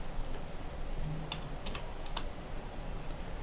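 Computer keyboard typing entries into an Excel invoice sheet: a few soft, quick key clicks clustered together over low steady room hiss, with no talking.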